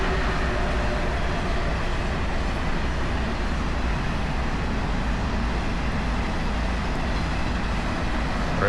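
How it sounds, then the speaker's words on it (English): A steady, loud rumble of a bullet train rolling past through a city in Gasan-dong, Seoul, a continuous broadband roar with no pauses, close and dominating the scene. "Bullet train."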